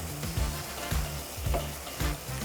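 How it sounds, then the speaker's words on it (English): Turkey mince frying in hot oil in a pan, giving a steady loud sizzle with soft rhythmic scraping as it is stirred, close up and with no voices. "You want to fry it until that is evaporated and it's starting to sizzle again from the oil"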